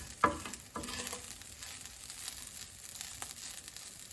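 Vegan Boca plant-based crumbles fry quietly in oil in a pan, a soft low sizzle broken by a few sharp scraping stirs and crinkly bursts.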